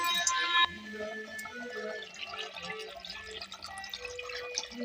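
Water poured into a pan of potato curry cooking with turmeric, salt and tomato, with a loud splash at the start settling into a steady bubbling hiss.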